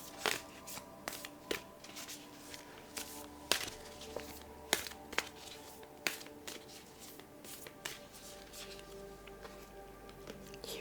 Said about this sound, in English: I will now draw a Moonology card to see what the moon wants to communicate